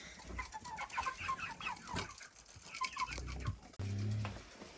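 Chickens and roosters on a small household farm that also keeps broilers and geese cluck busily up close, with one sustained, louder rooster-like call near the end.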